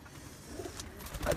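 Pigeon with a swollen leg cooing softly indoors, a brief low murmuring coo near the end over faint background noise.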